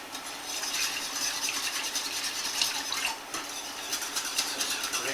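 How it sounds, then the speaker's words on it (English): A whisk scrapes and clinks steadily against a pan while stirring a creamy sauce with stock, a continuous metallic rattling with no talking. "So I'm going to change now to a whisk."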